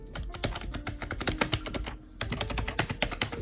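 Rapid clicky keystrokes on a mechanical keyboard fitted with a wrist rest, close and steady, with a brief pause midway before the typing resumes.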